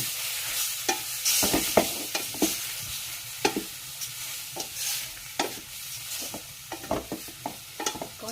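Beef stir-fried with chili and shallots in a hot pan sizzles loudly, while repeated sharp scrapes and clacks of a spatula tossing the meat come at an uneven rhythm.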